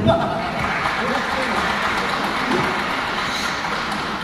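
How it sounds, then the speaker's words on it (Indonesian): A crowd of audience members applauds steadily at an Indonesian sharing session with a music figure, a dense, even wash of clapping throughout with a voice faintly underneath. "Mari kita berikan tepuk tangan dulu."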